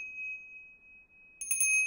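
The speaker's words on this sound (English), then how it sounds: "First, I ring the bell." A small bell rung for a religious food offering at a home shrine in Ibiza gives a faint steady ring at first, then a brighter cluster of quick rings near the end.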